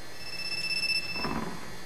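A short electronic phone ringtone chirps quietly with thin, high sustained tones, alone against a soft background.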